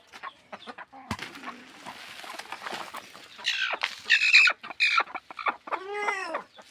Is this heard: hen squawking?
yes